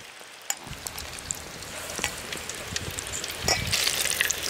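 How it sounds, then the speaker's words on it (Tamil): A whole fish frying in hot oil gives a constant close crackling sizzle with sharp pops, building louder toward the end. "சூப்பருங்க, ஆவி வறுக்குதுங்க"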